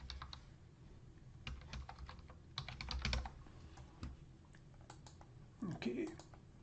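Keys clatter on a computer keyboard in short, quick bursts of typing with pauses between them, close and fairly quiet, with a faint voice briefly heard near the end.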